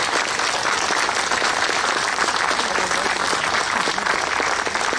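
An indoor memorial audience applauds two former Jadotville soldiers, a dense, steady round of clapping that fills the whole stretch without letting up.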